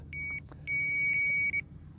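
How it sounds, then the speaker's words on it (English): An electronic bite alarm on a pike fishing rod gives two close, clear beeps: a short one, then a longer sustained tone, over faint low background rumble. "and the electronic alarm will sound."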